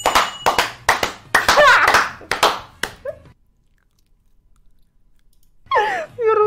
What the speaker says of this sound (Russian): Вот прям реально вот просто поднатужься и поаплодируй.